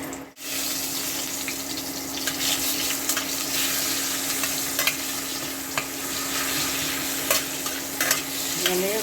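Onions and leaves frying in oil in a pan, a steady close sizzle with stirring scrapes and small pops running throughout, without talk.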